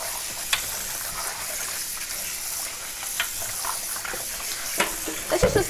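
Raw food is rinsed by hand under running water at a kitchen sink. The water hisses and splashes steadily at close range, broken by a few sharp clatters and a burst of splashing near the end.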